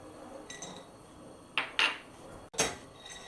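Walnuts and other nuts dropped into a metal pan on a stove for toasting, heard as a few close, sharp clattering rattles and a clink against the pan, with quiet in between.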